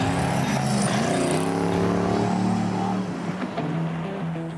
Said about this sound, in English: boat-inspired Cutlass hits the road for its maiden voyage